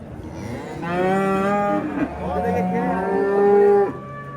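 Cattle at a livestock market, the Sho'ro cattle bazaar, give two long, loud, drawn-out moos close by, with a low murmur of the market behind them.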